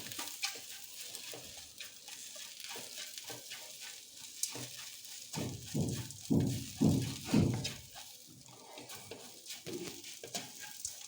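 Softened okra is stirred into fried spice masala in a pan for bendekayi palya, a quiet sizzle under repeated scraping and stirring strokes that swell in the middle, with no talk.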